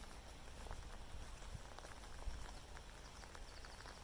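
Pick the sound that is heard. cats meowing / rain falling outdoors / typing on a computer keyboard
rain falling outdoors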